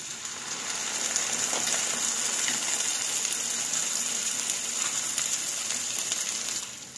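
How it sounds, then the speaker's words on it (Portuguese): Packet sauce poured into a pan of lightly fried onion and garlic gives a sustained close sizzle and bubbling hiss that starts abruptly, stays loud and even for several seconds, then drops off. "Agora aqui eu já vou entrar com o nosso molho"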